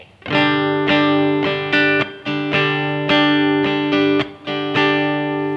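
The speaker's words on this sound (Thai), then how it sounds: "ผมวางปิ๊กไว้แล้วผมใช้นิ้วดีดปกติผมก็ใช้นิ้วดีดอย่างนี้นะ" Acoustic guitar chords strummed with the fingers, slightly softer attacks, about eight strokes ringing out close by with no talking.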